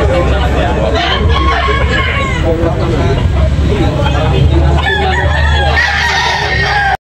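Roosters crow and chickens cluck amid a busy, noisy crowd at a chicken market in Tabunok, Talisay, with people talking and chatter all around.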